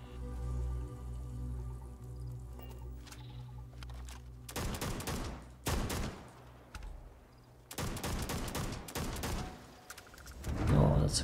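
Test-firing a weapon in Starfield, where two long bursts of loud rapid gunfire break a quiet ambient hum, followed by a final short blast at the end.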